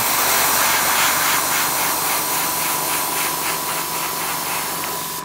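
A steady, close aerosol spray-paint hiss onto a PLA 3D print runs without a break for several seconds, dropping off slightly near the end.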